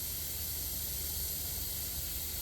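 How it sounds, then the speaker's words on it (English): An airbrush sprays paint onto plastic in one steady, even hiss that lasts the whole stretch, close and unbroken, with no voices. "do a quick spray"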